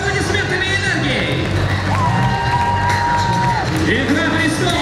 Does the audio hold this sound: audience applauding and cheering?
yes